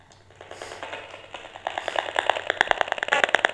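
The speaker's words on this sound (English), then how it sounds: "that's the sound of a router. So I know when I turn my meter on what a person has in their house." An RF meter reading a Wi-Fi router gives a rhythmic crackling tick, faint at first and then growing louder, with rapid regular clicks and no voices.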